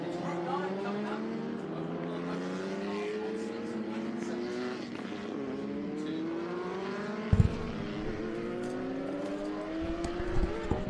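Open-wheel race cars on slick tyres, spanning 1970 to 2014 machines, run at the Austin circuit in Texas during a vintage racing event, their engines droning and rising steadily across the whole stretch with a brief thump near the end.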